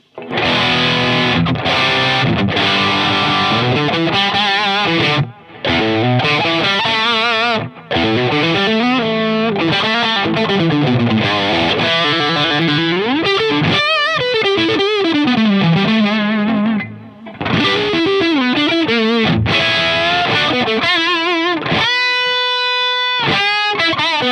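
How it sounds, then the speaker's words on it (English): Heavily distorted electric guitar through an MXR Zakk Wylde Overdrive pedal with all settings halfway, playing loud, dense riffs and bends, with a few brief pauses and sustained, ringing notes near the end. "first the Zakk Wylde Everything Halfway"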